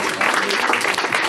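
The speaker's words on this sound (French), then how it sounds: "Christophe Taudière, sous vos applaudissements." Dense, loud applause from a crowd at the opening night of the Court Métrange 2019 short film festival, a continuous roar of clapping hands with little variation.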